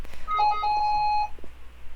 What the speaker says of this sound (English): I thought that was a McDonald's beep right there.